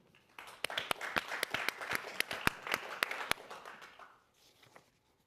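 Sparse audience applause at an evening event, a modest number of distinct, sharp claps building into scattered clapping that fades out after a few seconds, followed by faint murmuring.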